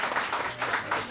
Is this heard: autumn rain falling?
no